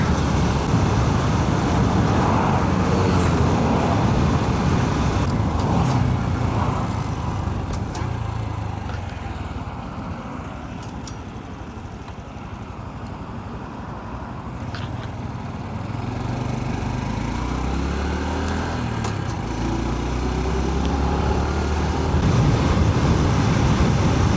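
Motorcycle riding on an open road out of the city on a clear day, a continuous engine drone mixed with heavy wind rush, steady throughout with a slight dip midway and rising again toward the end.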